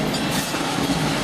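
A train rolls past through a residential neighborhood in South Dallas, a steady close rumble with rail clatter filling the whole moment, with no voices.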